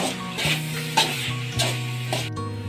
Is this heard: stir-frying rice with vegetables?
yes